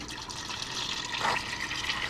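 Hot engine oil draining from a 2014–2019 Subaru Forester into a pan, a steady splashing liquid stream that is fairly faint and alone, with no voices.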